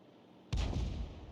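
A single tank cannon shot in a tank video game booms out sharply after a quiet moment and leaves a short rumbling tail.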